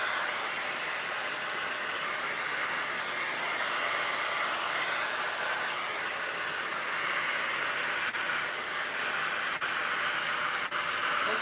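A blow dryer runs steadily at close range while hair is styled, a constant loud airy roar with faint clicks near the end and no talking.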